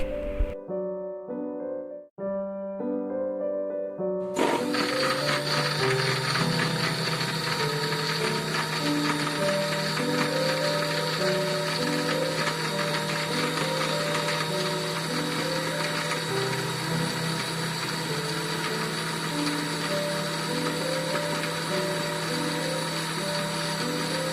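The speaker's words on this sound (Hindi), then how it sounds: "और इस सब को आपने अच्छे से ब्लेंड कर लेना है।" A blender whirs through dates and milk for a date milkshake, a few brief starts and stops before a steady, loud, close mechanical drone takes over and runs unbroken.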